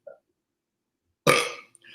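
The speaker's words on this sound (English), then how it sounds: "I felt a burp coming on, sorry." A single short, loud burp erupts close to the microphone after a faint earlier sound, then trails off into near silence.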